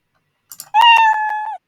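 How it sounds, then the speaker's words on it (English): A single cat meow from the Scratch sound library plays alone, a clear, loud, drawn-out cry preceded by a few faint clicks. "Meow being the sound that we want to play."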